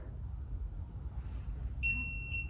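A digital torque wrench sounds a single sustained electronic beep, about half a second long, on reaching its set torque while tightening bolts on a DZ 302 or LT1 350 small-block engine, over a low background rumble.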